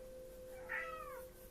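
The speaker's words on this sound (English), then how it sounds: "Sorry, that's been my cat," A house cat lets out a single short meow, fairly close but quiet, rising and falling over a low, steady background hum.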